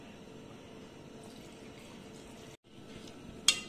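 Water is poured into ground chillies and ginger for pani puri, a soft trickle and pour with a brief pause and a small clink at the end, quiet and close.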